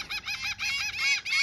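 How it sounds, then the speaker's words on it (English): Seagull calling at Rockport Beach, a short run of loud, close harsh squawking notes repeating quickly in a brief burst. "He's a seagull."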